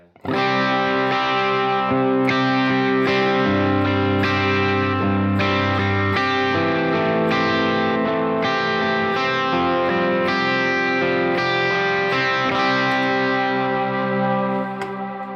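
Guitar played through an effects unit with distortion and a big washout reverb, sustained chords ringing out in a dense wash that slowly tails off, loud and alone.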